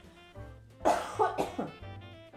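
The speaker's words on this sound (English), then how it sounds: "I am still battling that nagging little cough" A few quick coughs close by, with a short burst and then two or three smaller hacks, over a faint low background hum.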